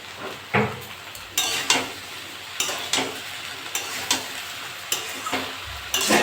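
Taro stolons fry with shrimp, turmeric and salt in a pan over a lowered flame, a steady soft sizzle broken by repeated scraping clinks of a spatula stirring close by.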